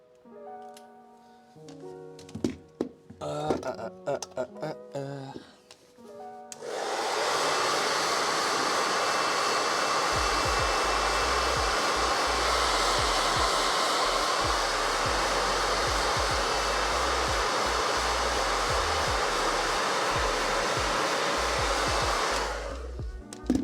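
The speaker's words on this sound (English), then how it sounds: "I'm gonna just blast it with the blow dryer real quick." A blow dryer runs steadily at close range for a long stretch, drying paint on a Warhammer 40k miniature, a loud, even roar that starts abruptly after some brief clattering and cuts off at the end.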